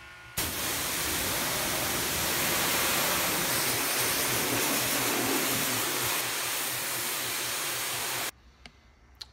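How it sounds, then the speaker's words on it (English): A pressure washer sprays water onto a car in a loud, steady hiss that starts abruptly, runs unbroken for about eight seconds and then cuts off. "I'm just gonna turn on the pressure washer, hit some water on it"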